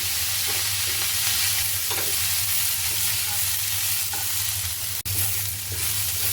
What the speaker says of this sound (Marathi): कांदा लालसर गुलाबी होईपर्यंत आपल्याला भाजायचा आहे